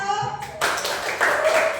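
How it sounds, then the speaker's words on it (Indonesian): In a fourth-grade classroom, students break into brief applause for group 1; a voice is heard at first, then clapping fills the rest of the short stretch. "tepuk tangan untuk kelompok 1."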